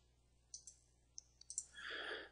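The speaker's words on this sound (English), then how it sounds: "left click in this area, left click in this area, and then right click on the tops" Several sharp, quiet computer mouse clicks come in an irregular sequence, some in quick pairs, followed by a brief louder rustle at the end.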